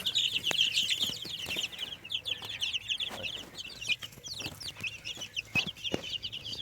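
Many chicks peep and cheep in a busy, continuous high chorus, with soft scratching and shuffling noises underneath.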